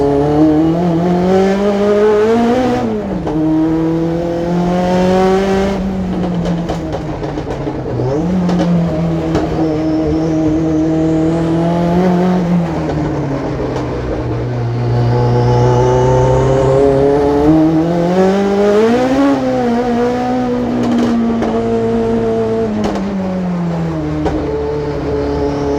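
A racing video game car engine played with a handmade steering wheel, revving continuously and loudly with rising and falling pitch as it accelerates and shifts, with faint tire squeal at moments and no talk.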